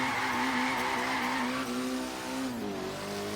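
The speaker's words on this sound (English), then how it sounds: "All right, let's try some first gear drifting." A Mitsubishi Evo VIII drifts in first gear in Forza Horizon 3. The engine screams at high revs under a continuous tire squeal, then the pitch drops near the end as the slide eases.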